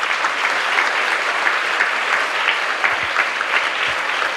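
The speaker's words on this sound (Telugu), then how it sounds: "వాళ్ళకి మంచిగా క్లాప్స్ తోటి థ్యాంక్స్ చెప్పండి అందరు కలిసి" Students at a Telugu Day celebration in an English-medium high school in Penugonda clap together to thank their Telugu teachers, a steady, dense applause from a large group that holds evenly throughout without talk.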